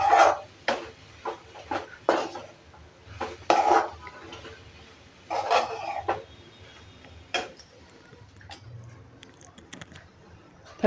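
Spicy karanji filling is stirred in a pan, with a series of irregular spoon scrapes and knocks against the metal, fairly close, separated by short quiet gaps.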